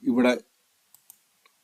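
After a brief spoken word, three soft, separate clicks of a computer mouse sound close by in an otherwise quiet room.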